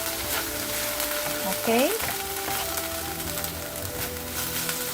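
Cabbage and chicken stew with thyme and stock cube sizzling in a pot, a constant bubbling crackle with a brief squeaky scrape partway through and a short spoken word.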